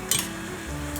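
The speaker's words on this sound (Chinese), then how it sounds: "一片一片的放进来炸" Nori and tofu-skin rolls fry in hot oil with a steady, low sizzle and a couple of brief, bright crackles as pieces go into the pan.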